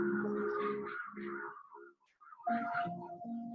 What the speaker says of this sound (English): We've got a lot of bird song this morning.